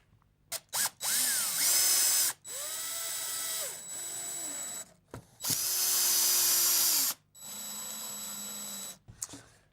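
Power drill drives screws into a timber bracket for a dining table in several loud bursts, each whine rising and falling in pitch as the screw seats, separated by short pauses with clicks and handling noise.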